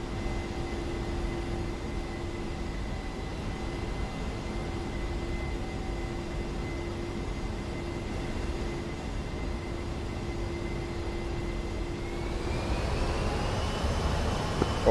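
In the DCS flight simulator, a jet aircraft engine holds a loud, steady roar with a sustained whine, then spools up toward 80% power near the end as the pitch rises.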